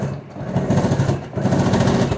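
A sewing machine stitching the tie back of an apron, a close, steady motor buzz in two runs with a short pause between them.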